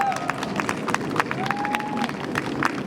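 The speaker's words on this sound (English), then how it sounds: "un aplauso para el mariachi" A crowd at a Hispanic Heritage Month celebration applauds and cheers for the band, with steady clapping, bright whistle-like cheers and loud crowd noise throughout.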